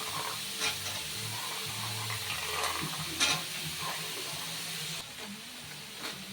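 Soaked chickpeas tipped into a pan with grated papaya, sizzling loudly as a spoon stirs through them, with scattered scraping knocks and a brief dip in the frying hiss toward the end.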